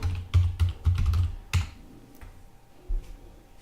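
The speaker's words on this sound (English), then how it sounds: "And put in your password." Keys clatter on a computer keyboard as a password is typed, a quick burst of close, distinct taps followed by a pause and a couple of final keystrokes.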